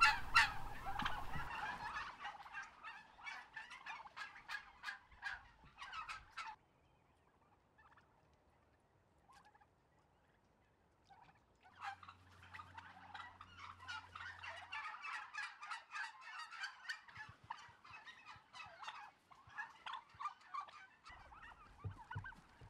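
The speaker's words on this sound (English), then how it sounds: "at one free-range farm in the UK, they're doing just that for their turkeys" Free-range turkeys on a UK farm gobble in loud, dense bursts, a flock calling together in waves with a short quiet stretch in between.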